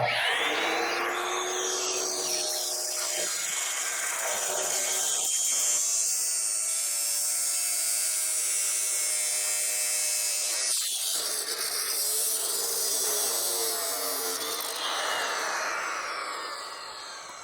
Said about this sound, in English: So let's see how this saw performs.